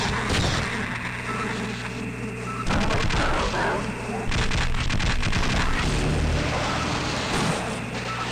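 A ceiling turret firing in Half-Life during a fight with teleporting enemies, heard as loud, sustained rapid bursts of automatic gunfire with booming impacts, continuous and dense throughout, with no clear talk over it.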